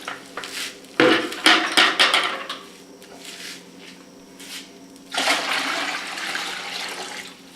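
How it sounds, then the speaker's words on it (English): A 5-gallon bucket being filled with water: a loud burst of gushing and clattering, then a quieter stretch, then a steady rushing pour of water into the bucket near the microphone. "This is a 5-gallon bucket, and start filling it with water."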